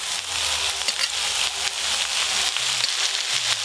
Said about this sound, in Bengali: এবার কেটে ধুয়ে রাখা শাকগুলো দিয়ে দেবো।